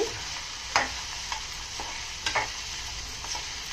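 Rice being stirred in a pan over a slow flame, a soft steady sizzle with a few scattered scraping strokes of the spoon, quiet and close with no voices.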